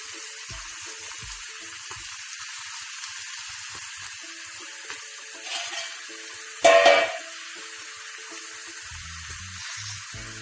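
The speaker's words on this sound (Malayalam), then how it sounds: "വെളിച്ചെണ്ണ ചൂടായ ചട്ടിയിലേക്ക് ഓരോന്നായി എടുത്തിട്ട് ഇങ്ങനെ വറുത്തെടുക്കാം." Tapioca slices dropped one at a time into hot coconut oil for homemade chips, with a steady broadband frying sizzle throughout and a couple of louder bursts as pieces hit the oil, no talking.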